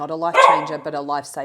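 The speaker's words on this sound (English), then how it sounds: "that's my dog having an opinion" Macy, a pet dog, barks and yelps in a quick, close burst of a few sharp woofs, heard under a person talking indoors.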